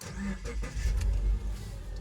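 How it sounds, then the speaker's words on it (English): A car engine runs with a low, steady rumble that swells slightly as it settles, close and continuous, with faint background sound. "So now in this position, the engine's running."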